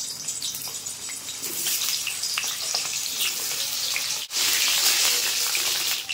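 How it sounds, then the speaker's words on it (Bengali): Potato slices are added to hot oil in a wok for a Bengali mutton curry, giving a continuous hiss and crackle that swells after a brief dip near the end; no talking. "এখন আলু ভেজে নেবো আলু দিয়ে দিলাম।"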